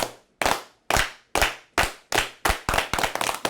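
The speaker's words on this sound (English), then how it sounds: "Clap it up and we still here." People clapping in unison at a community brotherhood gathering, sharp close claps starting slow and evenly spaced, then speeding up into quicker, tighter claps.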